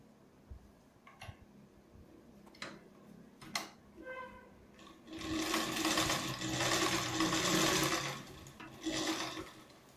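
A sewing machine stitches the lining of a katori blouse in a sustained close run of whirring and clatter after a few scattered clicks and handling taps, then stops briefly and starts again.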